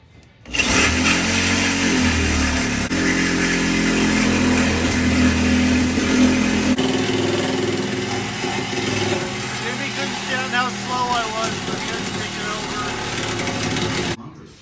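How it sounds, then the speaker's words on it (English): A loud reciprocating saw buzzes continuously, cutting through the exhaust on a 1970 Plymouth Hemicuda with a 426 Hemi, steady and close, with engine-like droning underneath. "first you gotta break out the Sawzall to cut this off"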